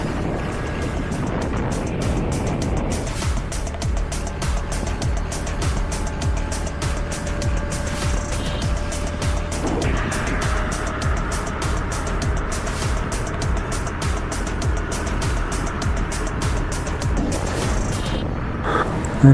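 A motorbike cruises fast along a highway, its steady engine drone and heavy wind rush continuous and loud throughout, with a slight shift in engine pitch partway through.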